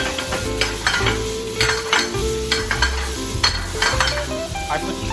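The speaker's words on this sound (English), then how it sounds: "add it the garlic and the butter. Add it the butter. Melt in the butter." Butter and garlic sizzle steadily in a frying pan alongside shrimp, with a constant crackle broken by scraping and stirring of a utensil against the pan.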